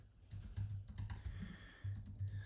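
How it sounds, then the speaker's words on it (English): Computer keyboard typing in bursts of quick, uneven keystrokes with short pauses, close and moderately loud, no voices. "typing really badly here"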